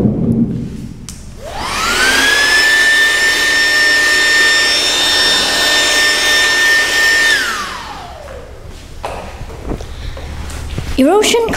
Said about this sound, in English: Put the fan behind the sand. Open it and observe.